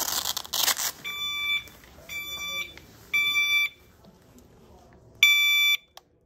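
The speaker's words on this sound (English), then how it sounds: "which immediately sounds the alarm." Sharp high-pitched electronic seatbelt alarm beeps sound in a repeating pattern of short bursts with gaps, loud and close, after some brief rustling as the belt tab is removed.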